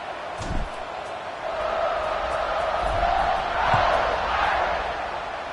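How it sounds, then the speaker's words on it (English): A video-game stadium crowd roars steadily through a college football matchup between Clemson and Notre Dame during a kickoff, the broad cheering swelling slightly midway and staying loud and continuous with no talk over it. "this crowd is feeling themselves after that last drive"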